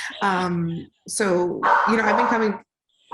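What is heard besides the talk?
dog barking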